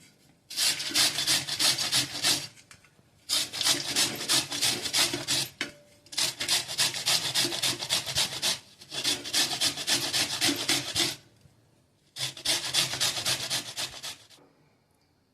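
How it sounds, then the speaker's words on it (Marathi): Peeled raw green mango rubbed against a grater, five bursts of dry rhythmic rasping strokes separated by short pauses, close and fairly loud with no talking. "आता ही मी किसून घेते."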